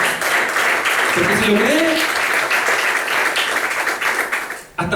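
A church congregation applauds in steady, dense clapping that fills the room, while a preacher's voice speaks over it, including a brief sung or drawn-out vocal phrase.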